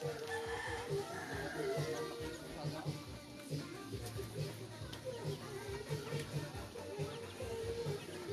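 Chickens cluck continuously nearby while a rooster crows, with people talking over the farmyard noise.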